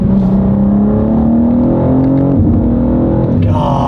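A BMW G87 M2 engine revs hard with a steady, loud, rising drone that climbs in pitch, dips briefly and picks up again near the end, heard close from inside or beside the car.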